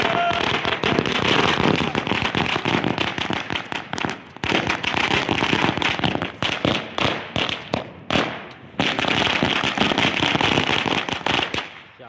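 Firecrackers burst at a street celebration in Jalgaon city for a political party's anniversary, a loud, rapid chain of sharp cracks and pops with a few short pauses between volleys.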